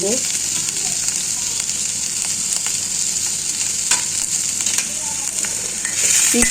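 Onions sizzle with rock salt in a kadai, a steady close hiss of frying with a few faint stirring clicks that swells louder near the end.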